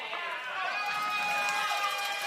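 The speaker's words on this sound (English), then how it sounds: "the crowd is into it" Spectators at a professional pickleball match cheering and shouting in a steady, moderately loud crowd roar, with voices mixed in throughout.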